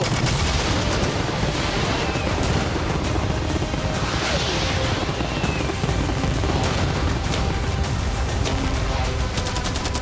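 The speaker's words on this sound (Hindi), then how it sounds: "मैं चाहता हूँ कि तुम कैनन्स, फायरवर्क्स, एरोज, कैटapults सब कुछ एक साथ फायर करो।" Video game battle with cannons, fireworks, arrows and catapults firing all at once, a dense, loud, continuous barrage of blasts, bangs and crackling explosions layered together without a break.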